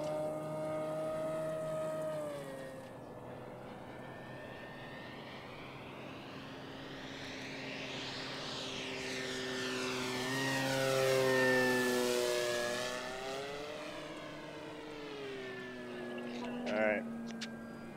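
An RC model Czech Mate, a Reno air racing replica, flies past with its engine droning and a sweeping Doppler pitch shift, rising to a loud peak near overhead and then fading, with echo off a hill and trees.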